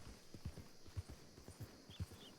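Horse hooves in RedM, the Red Dead multiplayer game, during a reining spin on the back feet: a quiet, steady clip-clop of hoofbeats at an even, quick rhythm, close by, with no voices.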